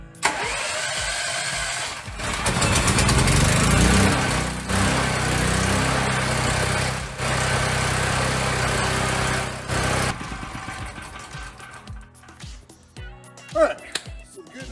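A small portable generator cranks, fires up and runs with a steady mid-pitched engine drone for several seconds, then cuts out, leaving clanks and handling noises, with a person speaking nearby.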